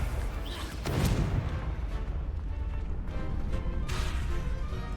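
Fiery Confringo spell blasts in Hogwarts Legacy, a sharp crash followed by rumbling, crackling destruction that stays loud throughout, with a second burst near the end.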